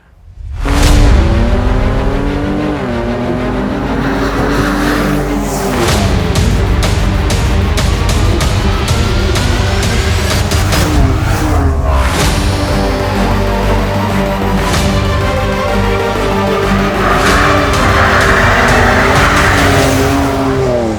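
A 2024 Ford Ranger Raptor truck drives hard with loud, sustained engine roar and repeated tire squeals and skids, the revs rising and falling throughout, close and alone without talk.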